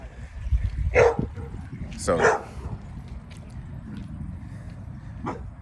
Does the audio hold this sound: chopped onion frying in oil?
no